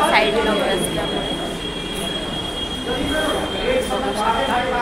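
Busy train station crowd at a ticket line, a steady murmur of many voices and bustle with a faint high whine and scattered clatter throughout.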